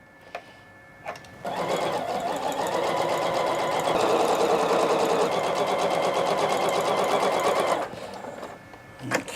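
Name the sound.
sewing machine sewing seams on a quilt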